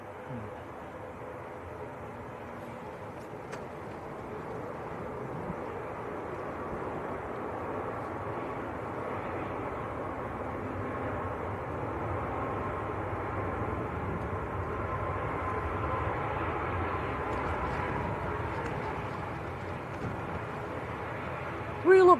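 A Loganair aircraft taxis at Manchester Airport, a steady broadband engine rumble and whine holding at moderate distance throughout, with a faint voice murmuring beneath it.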